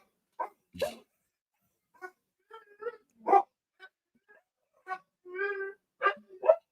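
A dog yips and barks in scattered short bursts, some with whiny, tonal edges, moderately close with gaps of silence in between.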